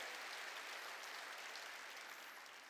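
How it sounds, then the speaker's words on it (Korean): Steady, dense clapping from a large church congregation, sustained and fairly even in loudness throughout, with no voices standing out. "박수로 하나님께 영광을 돌리라는 거예요."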